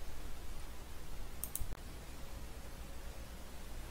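A single faint computer mouse click closing a dialog window on screen, a brief tick over steady background hiss.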